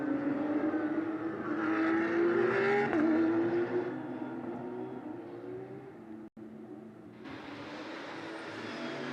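GT race cars driving at the Spa-Francorchamps circuit during a GT Cup Europe race, a loud engine roar with rising and falling whine as cars pass, dipping briefly before a brighter rush of sound near the end.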